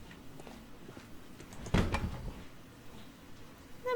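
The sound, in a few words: door opening in Sherlock Holmes video game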